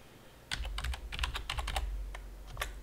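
Steady run of close keyboard clicks as a username is typed into a Rockstor Linux NAS setup screen, quick irregular keystrokes with no voices.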